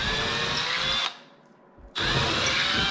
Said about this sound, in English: now we're just drilling the holes